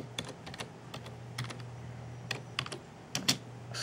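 Someone types a command on a computer keyboard, a quiet, close series of irregular key clicks arriving in small bursts with short pauses between them.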